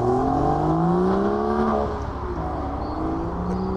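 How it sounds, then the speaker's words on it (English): A BMW M240i six-cylinder engine hums smoothly at a car meet, revving up and then easing off into a steady idle, loud and close with no voices. "that six-cylinder sounds real smooth"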